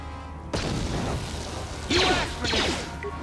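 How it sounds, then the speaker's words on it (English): Frag grenade blast in Star Wars: Knights of the Old Republic: a sudden crashing burst followed by a second, brighter explosive crack with debris-like clatter, close and fairly loud. "Can I throw a frag grenade at it?"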